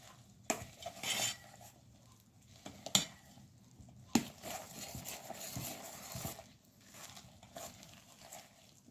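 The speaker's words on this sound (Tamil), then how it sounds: "இவ்வளவு கீரையும் போட்டு நான் இதை இந்த மிக்ஸ் பண்ண போகிறேன்." Wet stirring and scraping of a spoon through thick spinach vada batter in a bowl, with irregular knocks and clinks against the side.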